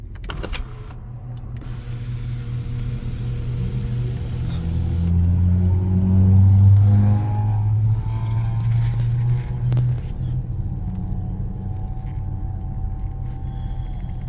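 Pontiac Grand Prix GXP accelerating onto a freeway: a steady low engine drone and road rumble that rises in pitch and loudness mid-clip, then settles into a smooth cruising hum, heard from inside the car with no talking.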